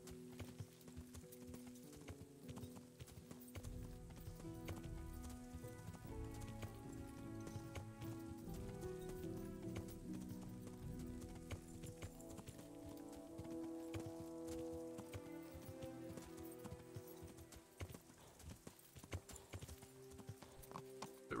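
Horse hooves clip-clop in a steady trotting rhythm while riding along a rocky riverbank in Kingdom Come: Deliverance, with faint rain-like patter and no talking.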